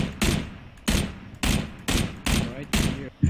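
Gunfire in the battle-royale game PUBG: five or six loud, close bursts of automatic fire at a steady rhythm, each a short rattling volley separated by brief gaps.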